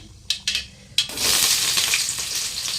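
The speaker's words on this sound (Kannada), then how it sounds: "ಜೀರಿಗೆ ಸಾಸಿವೆ ಹಾಕಿದ್ದೀನಿ ಚಟಪಟ ಹಾಕಿದ್ದಾವೆ" Cumin and mustard seeds go into hot oil in a home kitchen: three sharp clinks, then a sudden loud, dense spluttering and crackling sizzle that continues steadily up close, with no talking.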